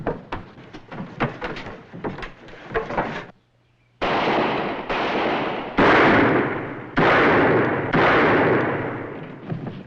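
Gunfire in a western TV show: a string of sharp, echoing shots, several loud reports in succession after a brief silence, with softer scuffling before.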